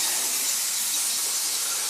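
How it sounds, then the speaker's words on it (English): A continuous close hiss of an olive oil spray being sprayed onto food, steady and fairly loud for its full length with no pauses. "My olive oil spray. Spray that right on top."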